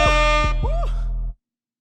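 An air horn sound effect blares in loud sustained tones with rising and falling swoops, cutting off abruptly after just over a second.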